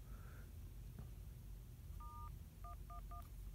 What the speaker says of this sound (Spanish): Vamos a hacer una llamada de prueba para que vean que está totalmente funcionando